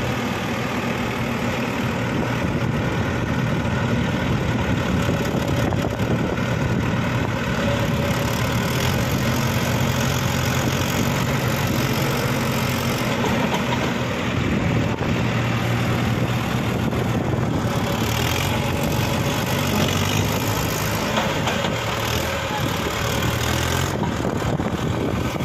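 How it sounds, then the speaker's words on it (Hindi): Mahindra Arjun Ultra 1 555 DI tractor straining to pull a heavily loaded trailer through wet mud, a loud, continuous low diesel drone held under heavy load throughout. "अर्जुन महिंद्रा जो लोड खींच रहा है तो उसको पूरी ताकत लगानी पड़ रही है"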